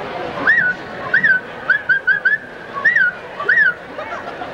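A performer at a marching band halftime show whistles an imitation of a red-breasted thrush, several short rising-falling whistled phrases in an uneven rhythm, clear and close over faint background noise.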